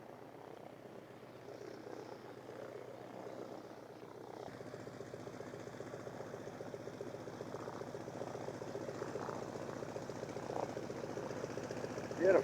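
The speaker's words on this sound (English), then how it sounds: "190, Cessna 190. He's taxiing now." A Cessna 190 light aircraft taxiing at an airfield event, its piston engine a steady, distant drone that grows slightly louder throughout.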